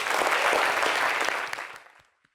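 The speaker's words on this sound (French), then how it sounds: "merci de l'applaudir" Audience applause for a singer and his band on an Ivorian TV show, dense and steady clapping that fades out over about two seconds.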